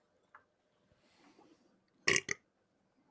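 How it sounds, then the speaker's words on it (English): A loud, close burp in two quick bursts, the second shorter, following a few faint rustles in an otherwise quiet space. "Good burp."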